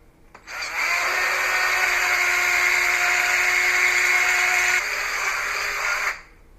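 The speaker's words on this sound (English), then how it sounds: "So what I did was I took the drill" A power drill bores out and enlarges a screw hole in a small plastic hanger, whining steadily at high pitch for about five seconds with a slight drop in tone near the end before stopping abruptly.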